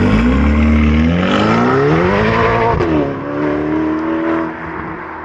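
A Ferrari Portofino accelerating hard, its engine climbing through rising revs with a brief shift before settling into a steady, loud drone, close and alone without talk.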